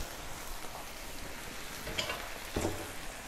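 Chicken grills in a pan beside spinach, giving a steady, close, even sizzle with a couple of brief louder crackles and no talk.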